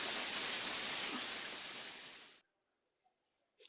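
A pressure cooker full of vegetables for idli sambar vents steam in a loud, steady rushing hiss for over two seconds, then cuts off abruptly, leaving near-silence and a few faint clinks.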